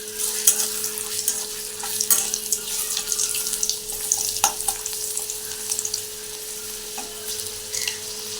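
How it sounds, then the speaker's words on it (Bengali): Potatoes fry in hot mustard oil in a wok, a continuous loud sizzle with crackling spatters and occasional stirring clinks, heard close and alone. "আলুগুলো প্রথমে একটু ভেজে নিচ্ছি।"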